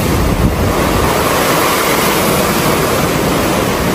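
Rough sea waves crash and roar near a resort, a loud continuous wash of surf with heavy wind buffeting the microphone, filling the whole stretch without pause.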